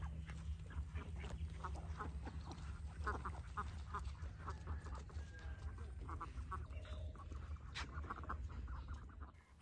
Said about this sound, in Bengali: হাঁসদের দেখে ওদের একটু কাছে যেতেই কজন পানিতে নেমে গেল